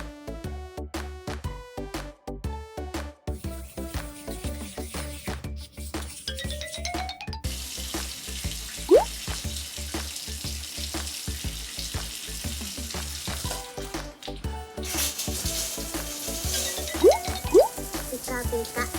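Running water and liquid splashes in a video game bath scene, a character being washed with shampoo, heard as steady trickling under music, with a voice talking.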